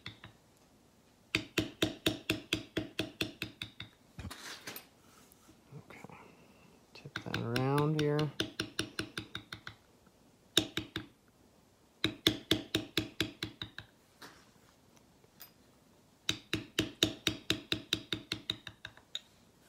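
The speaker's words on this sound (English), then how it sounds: "If you don't have a round face beveler, but you have just a smaller bevel, you can always size down to get inside those curves as well." A round face beveler struck into leather while tooling an oak leaf and acorn wallet pattern gives bursts of rapid, evenly spaced taps, close and crisp, broken by short pauses, with a brief stretch of faint voice in the middle.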